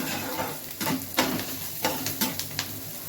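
White sauce pasta ingredients stirred in a pan over a high flame: a steady sizzle broken by repeated scraping strokes of a spoon against the pan, close and moderately loud.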